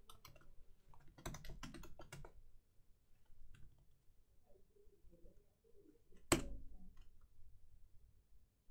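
Typing on a computer keyboard, quick bursts of soft key clicks separated by pauses, faint and close, with one sharper louder click partway through and no talking.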